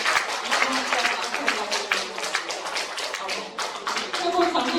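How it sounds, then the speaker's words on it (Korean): An audience at a performance breaks into applause, a dense patter of many hands clapping at close range for several seconds, with a voice talking over it. "박수 보내주세요."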